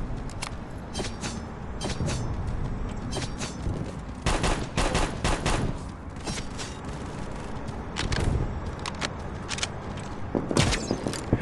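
Rapid gunfire from the mobile shooter game Guns of Boom, with loud automatic bursts and single shots cracking repeatedly in a dense, near-continuous barrage and no talking.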